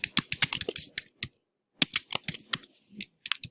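Rapid keystrokes on a computer keyboard, close and crisp, typed in quick bursts with a pause in the middle, no voices.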